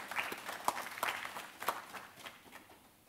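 Sparse, quiet applause greets an official at a platform launch ceremony, a few scattered claps fading out over a few seconds.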